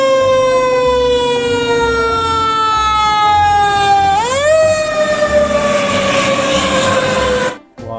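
A fire truck siren wails loudly and steadily, its pitch sliding slowly down, then jumping back up midway before falling again, and it cuts off abruptly near the end.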